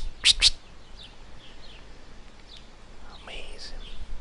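A person whistles in imitation of birdsong, starting with two sharp high chirps and following with softer, scattered warbling calls out in the open.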